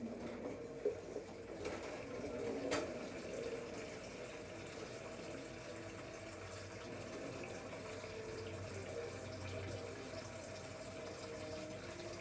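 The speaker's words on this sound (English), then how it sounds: "Let me rinse my hands off." Tap water runs steadily into a sink as hands are rinsed while cooking a lima bean and rib dinner, a continuous mid-level wash with a couple of brief clinks near the start and no talking.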